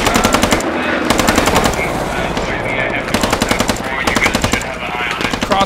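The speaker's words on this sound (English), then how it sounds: "Taking fire from the right." Rapid automatic rifle and machine-gun bursts in the military shooter Squad on a tropical island map, loud and continuous, with short pauses between strings of shots and voices talking faintly underneath.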